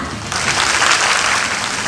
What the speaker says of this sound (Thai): ขอเสียงปรบมือดังหน่อยค่ะ